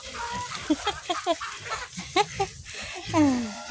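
Chickens cluck on a farm with goats and pigs, close and busy, with short repeated calls throughout and a voice talking over them.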